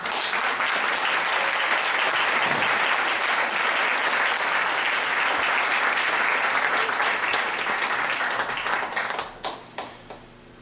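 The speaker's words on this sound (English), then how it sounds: "We applaud you. Give me a hand." A theatre audience applauds a cast of actors, with sustained, dense clapping lasting about nine seconds before thinning out into a few last claps. The sound is moderately distant and there is no talk over it.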